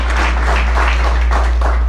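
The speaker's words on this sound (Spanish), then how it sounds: "Si va a aplaudir, aplauda con ganas" Church sermon audience claps in a short, steady burst of many hands, fairly close and continuous, over a low constant hum.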